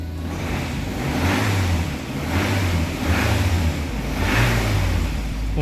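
A Volvo C70 diesel engine with a blocked DPF runs steadily and close up, its rough, loud drone rising and falling in several surges, with no talking.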